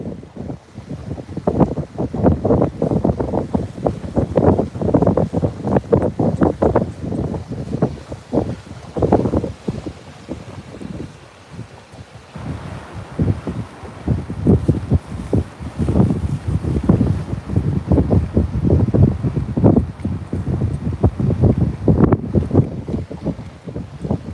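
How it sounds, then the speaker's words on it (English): Strong, steady wind buffeting the microphone in rough gusts on the Gulf Coast, with a low roar of surf and open water underneath and no voices. "Yes, it's very windy today."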